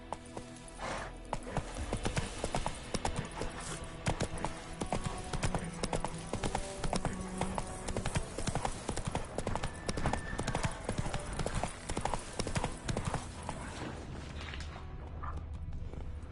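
Hooves of Roach, the horse in The Witcher 3, clip-clop in a steady, busy rhythm over a dense game soundscape of music and effects, with a voice briefly urging the horse on.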